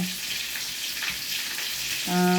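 Galunggong fish frying in a pan give off a steady, dense sizzle and crackle that holds close and loud without a break, and a brief tonal hum comes in near the end.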